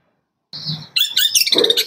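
A six-month-old long-tailed shrike sings loud and close, with a brief low call followed by rapid, high, chattering chirps and trills after a short silence.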